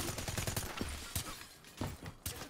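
Gunfire in the Black Ops 3 multiplayer video game, a rapid string of sharp shots up front followed by a few louder isolated cracks, with no talk over them.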